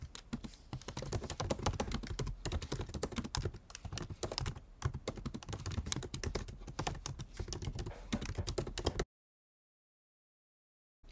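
A computer keyboard clatters nonstop as a thought is typed into a text document, a dense, even stream of close keystrokes lasting about nine seconds before it stops abruptly into silence.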